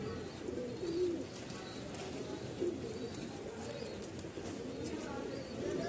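Soft, low pigeon coos repeat every second or two over a steady background hum, fairly close and moderately quiet, from a perched pigeon during pigeon trapping.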